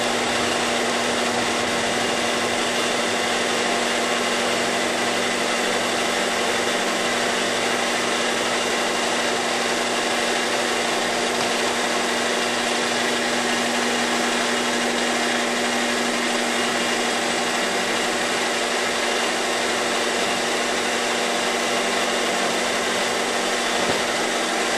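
A sewing machine with an Appliguide attachment runs steadily at a comfortable speed, giving a continuous motor whir with a persistent hum throughout and no talking.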